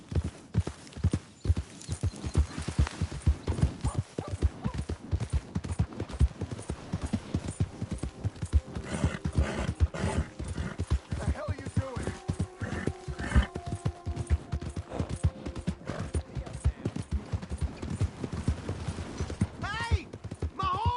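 Rapid, continuous clip-clopping of horse hooves at a brisk pace in the video game Red Dead Redemption 2, with voices and other busy game sounds layered over the rhythm.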